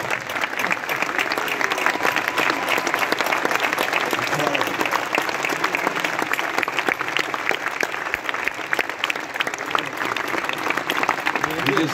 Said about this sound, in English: Let's give a round of applause to all of the Pacesetters that are here today.